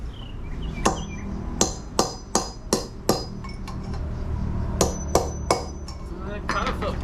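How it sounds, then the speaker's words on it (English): Metal hammer blows ring out on a seized boat trailer wheel hub, a quick run of six sharp strikes, a pause, then three more, with a final softer cluster near the end. "But I'm breaking out the bigger hammer today."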